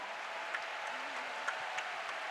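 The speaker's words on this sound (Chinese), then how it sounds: "请你们大力的来拍掌来尊荣" A congregation claps during a 65th-anniversary service at Taipei Bread of Life Church, giving a soft, even patter of applause heard from a distance.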